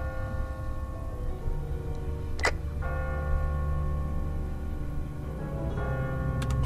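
A church bell rings out from a bell tower in a zombie survival video game, with two clear metallic strikes standing out over a steady, droning background ambience.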